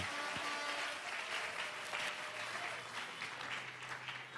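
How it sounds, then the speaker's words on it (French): A congregation at a church service led by Pastor Godé Mpoy bursts into loud, sustained applause, with dense clapping holding steady for several seconds and no talk over it. "Acclamons très fort."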